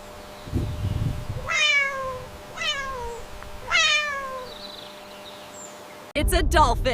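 A cat meows three times in clear, descending calls spaced about a second apart, close and loud, with low background rumble and a brief louder burst at the end.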